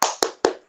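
Three sharp hand claps in quick, even succession, close and crisp, with no talking, in a fourth-grade elementary school classroom.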